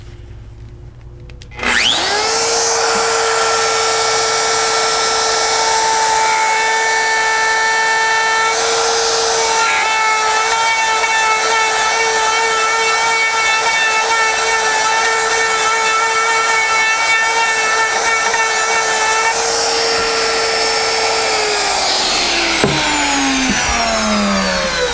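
A router starts with a sharp rising whine and runs steadily as its bit carves freehand a quarter inch deep into a wood sign, a loud close buzz with subtle shifts in tone, then winds down at the end.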